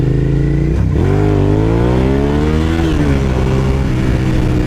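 A Suzuki SV650 or Yamaha FZ-09 motorcycle engine pulls hard and close, its loud droning pitch climbing steadily, dropping briefly at a gear change, then rising again before another shift, with no voices.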